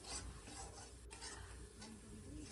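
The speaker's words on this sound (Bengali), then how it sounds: "আর দিয়ে দিচ্ছি হলুদ, কাশ্মীরি গুঁড়ো লঙ্কা দিয়ে ভালো করে কষিয়ে নেব মশলাটাকে।" Spices with turmeric and Kashmiri chili powder fry in oil while being stirred. Faint, close scraping strokes sit over a gentle continuous sizzle, and no one speaks.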